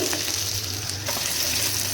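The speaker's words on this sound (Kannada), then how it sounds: "ಇಲ್ಲಿ ಮತ್ತೆ ಫ್ರೈ ಮಾಡ್ಕೊಳ್ಳೋಣ" Oil crackles and sizzles steadily as cumin seeds and curry leaves fry in a pan, close up, with a couple of light stirring taps.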